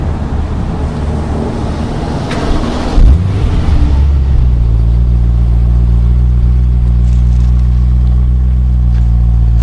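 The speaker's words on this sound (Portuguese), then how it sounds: "só para vocês escutarem o barulho do motor" A powerful 2011 BMW M3 V8 engine idles with a deep, steady rumble, after a brief burst of noise and a throttle blip early on.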